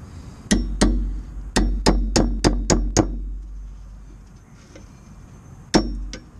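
A hammer strikes brake parts in a series of sharp metallic clanks. Eight quick hits land in an uneven rhythm, a pause follows, then one more loud strike and a softer tap, close and ringing.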